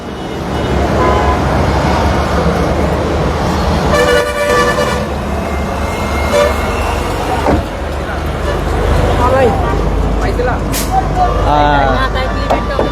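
A used 2005-model car fitted for CNG runs with a steady, loud engine rumble amid busy road noise, with horn toots and a brief air-brake hiss nearby, and voices in the background.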